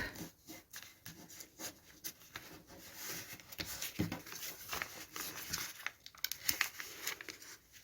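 Tape and a paper envelope handled up close during crafting, giving soft irregular crinkles, rubs and light taps at a quiet level with no voices.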